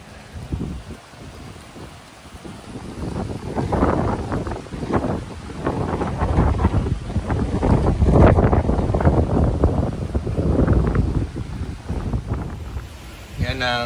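Strong typhoon wind gusts buffet the microphone in rough, roaring surges that build to a peak midway and then ease, a close, turbulent rumble with no clear talk.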